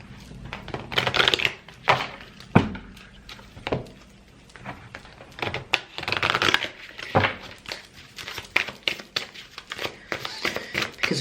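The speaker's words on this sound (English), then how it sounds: "I'm just going to just do a quick shuffle here." An oracle card deck (Soul Journeys) shuffled by hand, a quick run of crisp riffling and papery slaps in bursts, fairly close, with faint voice underneath.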